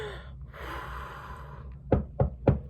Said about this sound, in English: Suddenly, there was a knock at the door.